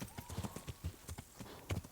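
Horse hooves clip-clop in Kingdom Come: Deliverance, a steady close trotting rhythm of soft thuds with an occasional snort, played fairly quietly.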